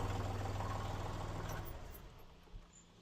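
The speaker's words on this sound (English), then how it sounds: "We'll shut the tractor off so that you can hear more clearly." Kubota tractor with a front-mounted snow blower attached, engine idling with a steady low throb that winds down and stops partway through, leaving quiet outdoor ambience and a faint clunk.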